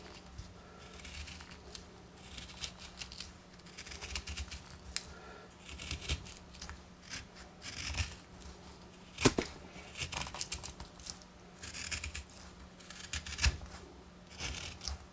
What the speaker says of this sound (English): I think you can make feather sticks with it